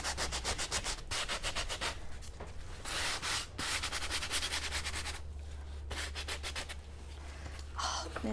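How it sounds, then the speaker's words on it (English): Steady back-and-forth rubbing strokes of a sanding pad scraping a cracking plaster and metallic lasur finish, close and rhythmic, with no talking. "you can come back in with your sanding pad"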